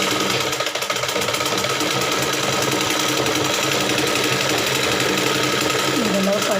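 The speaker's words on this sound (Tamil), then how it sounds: "நம்ம இப்போ கொக்கி பட்டி தைக்க போகிறோம்." A sewing machine stitches a hook strip onto a blouse, a steady fast mechanical whir running continuously without pause.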